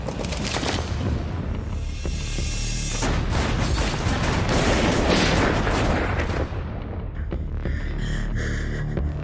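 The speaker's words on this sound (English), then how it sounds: "Army taking fire. Shots fired. Near the Algiers Motel." Gunfire erupts in a movie scene near the Algiers Motel, dense bursts of shots and heavy booming for several seconds, loud and close, before thinning out toward the end.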